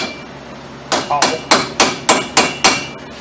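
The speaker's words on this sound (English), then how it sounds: "So you just get a screwdriver or a chisel and just get in here and take this dust cap off." Seven sharp, evenly spaced hammer blows strike a chisel to pry the dust cap off a 1999-2007 GMC Sierra / Silverado wheel hub, loud and close after a brief quiet start.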